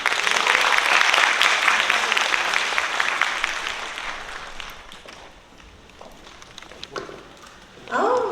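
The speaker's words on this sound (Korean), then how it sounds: "김그희님을 여러분의 큰 박수로 모시겠습니다." An audience at a lecture hall welcomes a local gugak performer with loud applause that fades out over several seconds, leaving a few scattered sounds before a voice begins speaking at the end.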